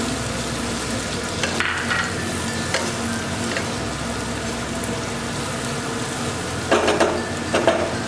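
Tomatoes go into a frying pan for a sesame chicken curry with pumpkin, filling the clip with a loud continuous sizzle and bubbling, broken by a few stirring scrapes.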